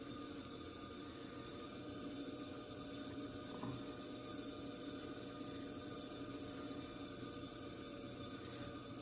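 Pottery wheel spinning as clay is opened down toward the wheel head, a faint steady motor hum and whir running evenly throughout with no talking.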